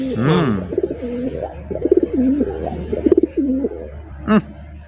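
Racing pigeons give close, throaty cooing in repeated wavering phrases, loud and near, with a voice briefly heard among the calls.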